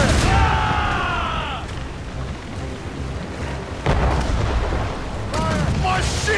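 Heavy ship cannons boom repeatedly in a video game naval battle, loud deep blasts over a constant roar of combat, with shouted voices and whistling effects mixed in.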